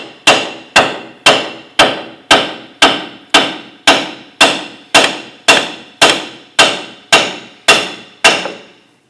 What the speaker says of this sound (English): Use our hammer, go ahead and tap this out.